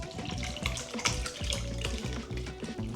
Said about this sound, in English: let's pour it in over our cheesecloth